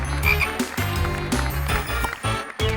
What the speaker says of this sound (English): Here we go, and of course it's a frog.